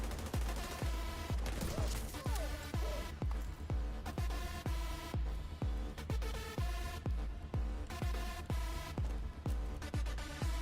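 Gunshots in The Division 2 game, a steady run of evenly spaced, punchy shots repeating about twice a second over a musical backing, with no voices.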